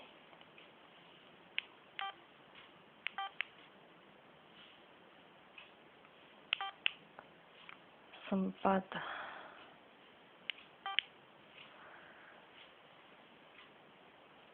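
Telephone dialing tones sound in short, scattered beeps across the clip, with rustling and handling noise and a brief spoken word.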